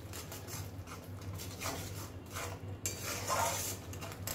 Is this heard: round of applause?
no